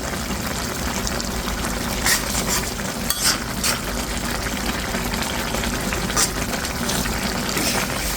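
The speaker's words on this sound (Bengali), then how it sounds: "এখন আমি এখানে ভাজা জিরার গুঁড়োটা দিয়ে দিচ্ছি, দিয়ে একটু নেড়ে ছেড়ে নিচ্ছি" A pan of spinach curry with roasted cumin powder bubbles and hisses while a spoon scrapes and stirs now and then, a steady close cooking sound with no talking.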